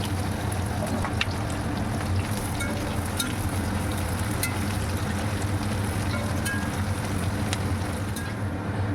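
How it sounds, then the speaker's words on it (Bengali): Chopped onion frying in oil in a pan for a spicy lote fish dish, a steady loud sizzle holding from start to finish with faint clicks of stirring through it. "এর মধ্যে পেঁয়াজ কুচি দিয়ে ভালোভাবে নেড়ে চেড়ে পেঁয়াজ কুচি হালকা সোনালি কালার করে ভেজে নেব।"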